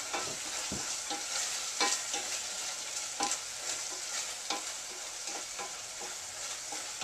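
Shrimp sizzling and frying in a pan for bruschetta, a constant bright hiss with occasional scraping stirs and small pops, close and steady with no voices.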